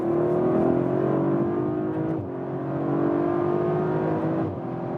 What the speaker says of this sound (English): One more acceleration, let's use the shifting pedals